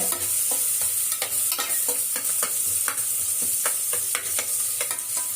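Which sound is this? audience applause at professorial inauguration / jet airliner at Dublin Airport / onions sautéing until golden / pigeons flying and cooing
onions sautéing until golden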